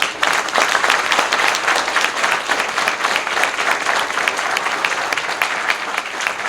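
An assembly approves proposals by acclamation with sustained, dense applause from a large crowd, steady and loud throughout.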